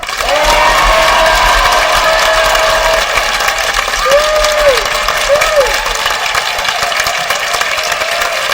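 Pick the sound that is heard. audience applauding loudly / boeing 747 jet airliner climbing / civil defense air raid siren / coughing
audience applauding loudly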